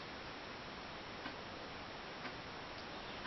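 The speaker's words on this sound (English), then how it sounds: "Maybe you can hear the clock in the background" A clock ticks softly in the background, its faint, regular ticks recurring steadily over a constant hiss in an otherwise quiet room.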